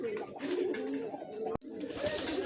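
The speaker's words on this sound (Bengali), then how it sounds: "এই যে সেই কবুতর পানি টানি খাচ্ছে, ছুটে যাচ্ছে, উঠে যাচ্ছে" Pet pigeons nearby coo in soft, throaty, repeated calls while they drink and move around their enclosure, with a brief knock partway through.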